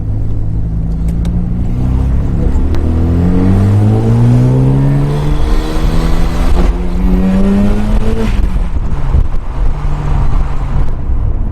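A 1996 Mazda RX-7 FD3S with a FEED widebody kit, rotary engine not stock, revs loud and close as it drives, pitch rising and falling through repeated accelerations and gear changes, with no voices.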